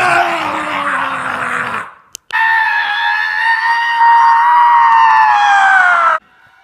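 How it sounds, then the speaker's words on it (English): A single person lets out a loud, prolonged scream, a long strained howl that cuts off, then after a brief gap a second sustained high-pitched scream lasting about four seconds before stopping abruptly. "Time for another big, epic, annoying scream of the day."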